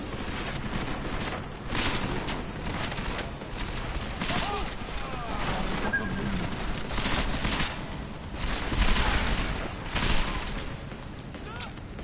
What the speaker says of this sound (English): All right, let's shoot people up.